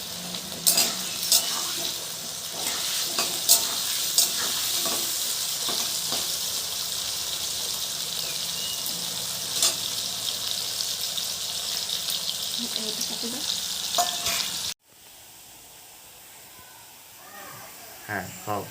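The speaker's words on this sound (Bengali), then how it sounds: "এখন আলুগুলো ভালো করে ভাজা হবে, একটু লাল লাল করে" Potatoes with turmeric fry and get stirred in a hot pan, a steady loud sizzle with scraping and clatter that cuts off abruptly near the end, followed by quieter room sound and brief voices.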